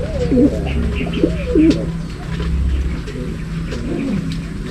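Racing pigeons coo in low, throaty repeated phrases close by, with a steady hum and faint chirps in the background.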